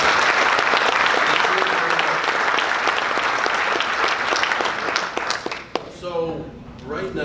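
A crowd applauds award winners at the International Hail Expo 2019 awards ceremony, sustained loud clapping that tapers off in the last couple of seconds as a voice begins speaking.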